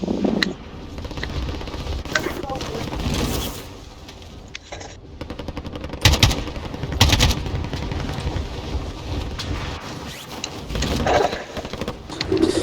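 Sustained gunfire fills a Call of Duty Modern Warfare match, with dense rapid bursts, sharp shots and heavy impacts layered over constant game noise.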